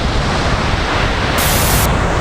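Large sea waves breaking on a medium-grained sand beach in Sokcho, South Korea, a loud, steady roar of surf with no pause, heavy with wind noise on the microphone.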